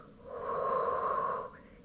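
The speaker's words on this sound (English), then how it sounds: "If you want to add the breathing now, exhale forward" A single forceful exhale through the nose and mouth during a beginner Pilates core-breathing exercise, a close, breathy rush lasting over a second before fading.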